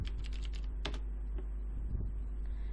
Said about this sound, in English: in your URL just type your website's name